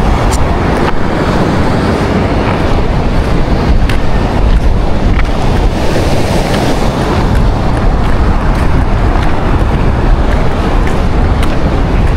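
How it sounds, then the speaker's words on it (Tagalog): Wind and waves at sea during sabiki fishing roar loud and steady from start to finish as a continuous rushing wash, with no voices. "Palakas na ng palakas yung alon."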